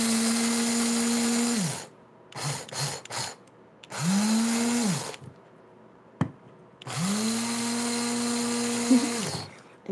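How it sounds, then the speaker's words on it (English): Coffee grinder pulverizing raw flaxseed, three loud whirring motor bursts of a few seconds each, with softer brief pulses and rattling between them. "I love the sound of the grinder."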